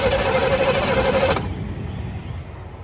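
A starter motor cranks the engine of a 1977 Chevy Nova, loud and close with a fast, steady whirring churn. It cuts off after about a second and a half, leaving a quieter rumble.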